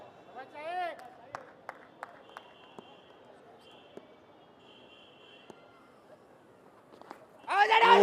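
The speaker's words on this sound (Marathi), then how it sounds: "टाळ्या वाजवत असताना प्रेक्षक त्यांनाही आनंद होतोय" Spectators applaud at a local cricket match in the Lalbaug Premier League, a burst of clapping swelling up loudly near the end after sparse thuds and quiet crowd murmur.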